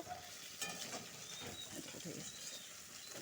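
Puti fish coated in rice flour sizzles quietly in hot oil in a pan, a soft continuous crackle with light stirring or scraping sounds, close and low in level.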